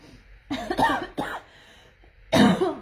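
Several harsh coughs in short bursts, close and loud, with a brief quiet gap before a final heavier cough.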